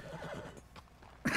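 Horse in the video game Red Dead Redemption 2 gives a short whinny close by, with faint hoof clip-clops beforehand and a loud burst of noise at the end.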